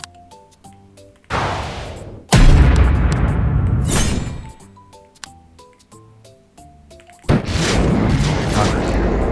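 Exploder enemies burst in Frog Survivor, a video game, with loud booming blasts that cut in abruptly between short, bright chiming game tones, two heavy explosion bursts each ringing out for a second or more.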